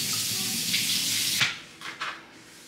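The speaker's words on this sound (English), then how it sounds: "I'm going to give them a little rinse still." Bell peppers being rinsed under a running kitchen tap, a steady close hiss of water that breaks off at about one and a half seconds, followed by a few brief splashes and drips.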